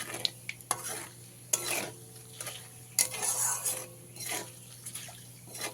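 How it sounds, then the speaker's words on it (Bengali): Whole cardamom, cinnamon, bay leaf and nigella seeds frying lightly in oil for a katla fish curry, with a soft sizzle under repeated spoon scrapes and stirring clatter against the pan. "মশলাগুলোকে হালকা হালকা ভাজা করে নিতে হবে"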